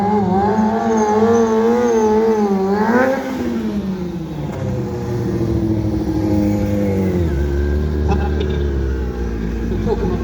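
A stunt motorcycle's engine revs loud and close while it holds a wheelie at a stunt show, the pitch rising and falling in steady sweeps, then dropping to a lower, rougher drone after a gear change.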